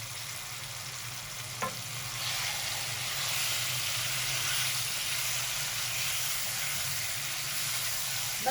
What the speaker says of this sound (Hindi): बस 1 मिनट तक हम मसाले के साथ भूनेंगे, आलू को फ्राई करेंगे थोड़ा सा